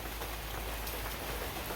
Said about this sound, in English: Still just gloomy and light rain.